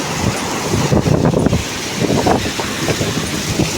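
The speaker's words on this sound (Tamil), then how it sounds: "ஆலங்கட்டி மலை அந்த விழுகுது, கட்டிகள் விழுகுது." Hailstones come down in heavy rain, a close, loud and constant rush of drumming impacts with slight surges, heard alone without speech.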